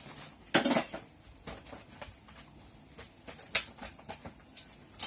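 A mortar being cleaned, with sharp clinks and clatters of hard utensil against the bowl in irregular bursts, close up, with no talk.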